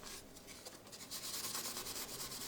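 Hand sanding of melted paint on a fiberglass Cyberman head, quiet rhythmic back-and-forth scratchy strokes, close and alone.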